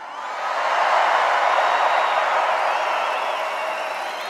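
A large rally crowd in Arizona roars in a sustained, broad wash of cheering that swells quickly, holds steady and slowly eases off, heard without any speech over it.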